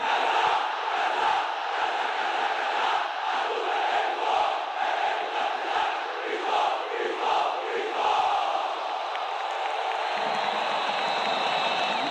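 Football crowd in a stadium chanting its war cry, a massive sustained roar of voices in rhythmic pulses, dense and loud throughout, thinning slightly toward the end.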